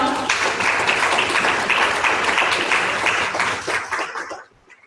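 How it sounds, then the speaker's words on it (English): Sustained applause from an audience at a leadership livestream event, thick and even clapping that carries for about four seconds before quickly dying away to near silence. "So please give Anne a round of applause"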